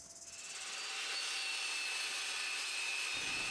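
A table saw cuts through a piece of plywood while making finger joints: a steady, loud, high-pitched whine of the blade biting wood holds for about three seconds after a quick spin-up, then cuts off abruptly.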